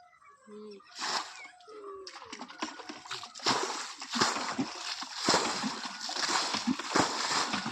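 Water splashes and sloshes as a pond is bailed out with a bucket to catch fish, with irregular bursts close by and people talking over the work.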